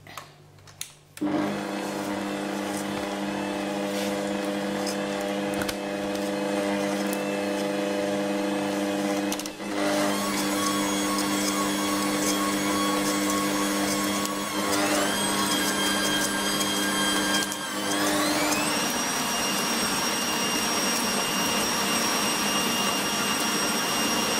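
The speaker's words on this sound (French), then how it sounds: "Et je vais commencer à fouetter." Electric hand mixer whisking buttercream for cupcakes, a steady loud motor whine running continuously with shifts in pitch as the beaters move through the cream.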